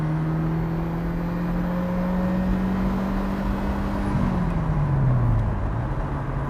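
A 1988 Ferrari 328 GTS engine drones steadily from inside the cabin while getting onto the highway, its tone holding, then dropping as the car shifts, under constant road and wind noise.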